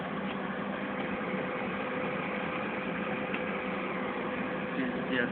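A steady tractor engine idles nearby in snowy winter in Moscow, a continuous low rumble with faint vibration and occasional soft background sounds.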